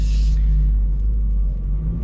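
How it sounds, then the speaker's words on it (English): A 2025 Toyota 86 Hakone Edition sports car pulls away, its engine a loud, steady low rumble that briefly carries a higher whine at the start before settling into a continuous drone. "Well, let us set off in the Hakone Edition."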